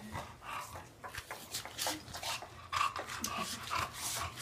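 A puppy whimpers and pants in soft, uneven bursts up close, with faint high squeaks and shuffling sounds.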